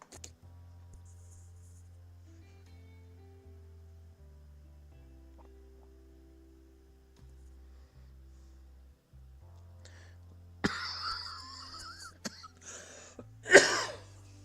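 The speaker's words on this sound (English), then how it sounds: "Sorry about the coughing." A man coughs a few times close to the microphone while playing an online game at home, with a quiet electronic hum under the coughs.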